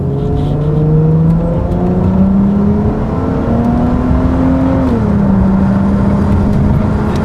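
A 2003–2007 Infiniti G35 engine revving from inside the car, a steady loud hum that climbs in pitch, then drops back and settles, with no talk over it.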